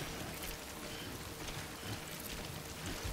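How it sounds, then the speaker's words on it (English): Steady, heavy video game rainfall in Death Stranding hisses continuously, an even wash of drops with no voices. "how much it's raining"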